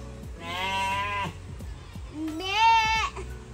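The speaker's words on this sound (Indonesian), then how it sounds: "Oh, ada domba merino." Merino sheep bleat nearby, two distinct wavering calls separated by a short pause, with light rustling and background murmur.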